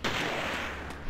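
Sniper gunshot in the horror video game Forbidden Siren, a single loud booming blast with a long echoing rumble filling the whole moment.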